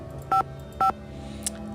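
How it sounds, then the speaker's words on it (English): DTMF keypad tones from a phone in the Nancy Drew video game, two clean beeps about half a second apart, then a faint short chirp, over a low steady background hum. "I'm just going to dial this number."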